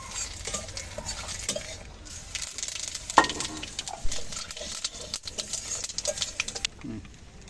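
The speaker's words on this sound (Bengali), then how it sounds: "তেল তো গরম হয়ে গেছে। এখন ফোড়নে দিয়ে দেবো। ফোড়নে দিয়ে দিচ্ছি একটা শুকনো লঙ্কা আর একটা তেজপাতা।" One dried chilli and one bay leaf sizzle in hot oil as tempering, a moderate crackling hiss with a few sharp metal clinks of a utensil against the pan.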